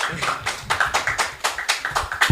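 Rhythmic hand clapping at a scouting (Pramuka) gathering, a steady run of close, sharp claps roughly four per second for a couple of seconds, with no talk over it.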